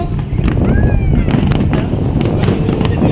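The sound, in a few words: New Year fireworks barrage exploding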